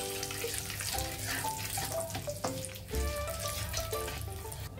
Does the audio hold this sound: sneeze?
no